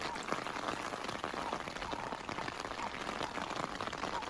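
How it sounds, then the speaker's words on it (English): Steady rain pours down on a campsite in the Drakensberg, a dense, even patter on surfaces that stays constant and fairly soft throughout, with no talk heard. "This rain just doesn't want to stop,"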